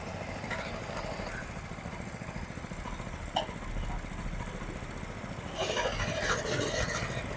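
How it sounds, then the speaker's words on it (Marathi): A 7 hp power weeder rotavator, started by recoil starter and set in reverse gear, runs with a steady, buzzing engine drone nearby that grows slightly louder toward the end. "तर या ठिकाणी आता चालू केलं आहे रिकॉईल स्टार्टरनं हा रिवर्स गिअर टाकलेला आहे"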